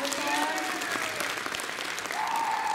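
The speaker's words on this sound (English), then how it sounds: "let's give him another round of applause" Applause from the audience at a high school production of Beauty and the Beast, many hands clapping in a steady, full burst, with a voice speaking faintly underneath.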